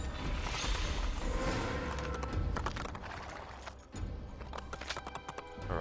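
Horse hooves clip-clop steadily in Assassin's Creed, a galloping rhythm that stays loud and close with a brief snort or whinny among the game's ambient clatter.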